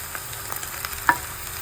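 Cooked chicken sautéing with browned onions in a pan, a soft continuous sizzle with light scraping stirs and one sharper clink, close and alone with no talk.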